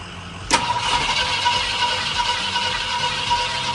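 A 1971 Ford F250 engine cranks briefly and catches, then settles into a loud, steady idle that runs to the end.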